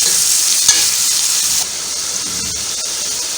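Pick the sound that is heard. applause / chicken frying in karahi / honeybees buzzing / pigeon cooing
chicken frying in karahi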